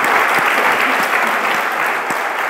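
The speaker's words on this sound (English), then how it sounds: "I'd like to give a round of applause to the Rust LATAM organizers for making this happen." Sustained applause from a conference audience at a Rust programming language event, a dense steady wash of many hands clapping at constant loudness with no voices over it.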